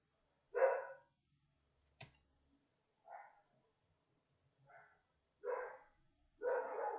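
Dogs barking, several short separate barks and yips spaced a second or so apart, fairly close, with a sharp click between them and quiet gaps.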